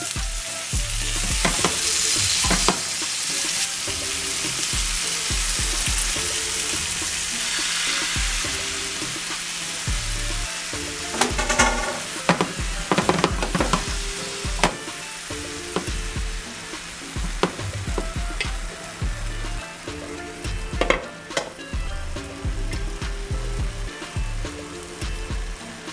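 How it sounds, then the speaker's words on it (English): Broccolini sautéing in an olive-oil-sprayed pan, sizzling and crackling steadily throughout with scattered sharper pops and bursts, loud and close, with no talking. "I'm going to saute my broccolini and steam it until it's nice and tender. Ooh, look at that sizzle."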